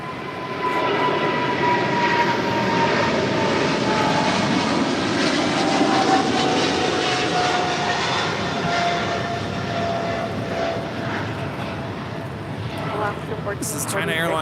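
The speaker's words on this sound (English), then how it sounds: "China Airlines cargo 777 freighter now rolling down at 25 left." A China Airlines Boeing 777 cargo freighter takes off, its engines roaring loud and steady with a faint falling whine throughout. A commentator talks over the sound.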